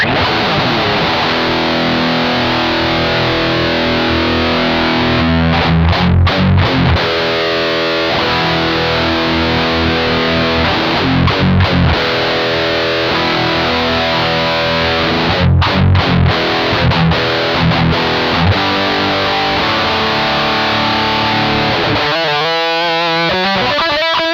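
Electric guitar through a BOSS MT-2W Metal Zone Waza Craft distortion pedal in standard mode with all controls flat, loud saturated riffs and ringing chords with short pauses, no talking.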